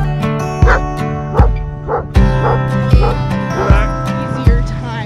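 Sled dogs at a Jackson Hole dog sledding outing bark and yip repeatedly with whimpers between, loud and close, a steady rhythm of sharp calls over a continuous background of excited dogs.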